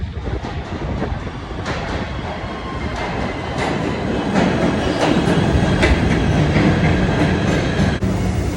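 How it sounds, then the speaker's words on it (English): A subway train bound for 33rd Street rumbles loudly and steadily, with rhythmic clickety-clack from the wheels, sharp rail clicks and a brief squeal near the end, and no voices. "This is the train to 33rd"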